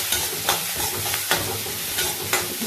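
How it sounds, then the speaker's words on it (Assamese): Chopped onions frying in mustard oil in a wok, a constant close sizzle punctuated by a few sharp stirring scrapes at regular intervals. "ইয়াতে মাষ্টাৰ্ড অইল দি দিলোঁ অলপমান, তাতে কাটি লোৱা পিঁয়াজখিনি দি দিলোঁ।"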